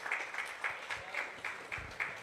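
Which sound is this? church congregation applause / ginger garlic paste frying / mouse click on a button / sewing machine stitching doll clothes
church congregation applause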